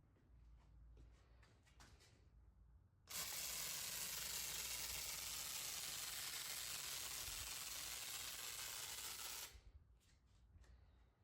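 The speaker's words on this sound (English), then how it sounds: "Let's spray some water on the windshield to simulate some sort of rain." Water is sprayed onto a car windshield in a steady, loud hiss for several seconds, starting abruptly and cutting off, with quieter handling noises before and after.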